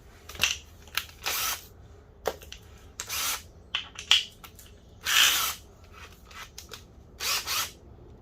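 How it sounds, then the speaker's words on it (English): An old spray bottle mists water onto a car headlight for wet sanding in a series of about nine short, crisp hissing squirts, irregularly spaced and close by, with quiet pauses between them. "Apparently we've got to wet this as well, so I've just filled up an old spray bottle I've got."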